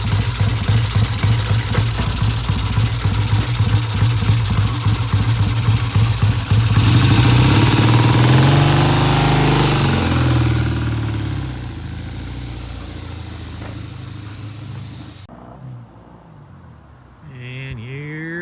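A vintage British motorcycle engine runs loud and close on a test ride with a steady, throbbing exhaust. It swells to a harder pull partway through, then drops back to a rougher, fading note near the end.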